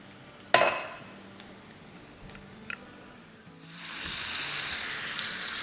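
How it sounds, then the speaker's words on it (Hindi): Marinated chicken goes into a hot pan of softened onions: a sharp clink, then a quiet pause, and a loud, steady sizzle of frying rises and holds. "तो अब इसमें हम मैरिनेटेड हमारी चिकन डाल देंगे"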